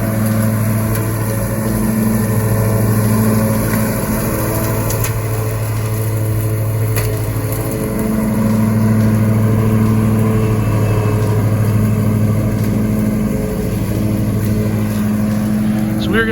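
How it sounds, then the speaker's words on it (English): A lawn mower cutting turf during a spring cleanup by a landscaping crew, its engine droning steadily and loud close by for the whole stretch, with a brief pitch change partway through. "We got Mark mowing"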